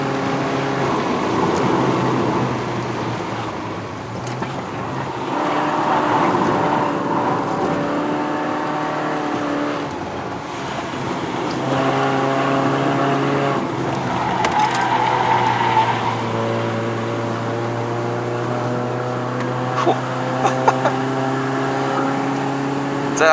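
A 2015 Peugeot 208 1.6L VTi climbs a winding mountain road toward Genting in Malaysia, its engine droning steadily from inside the cabin, pitch rising and falling with the revs through the bends.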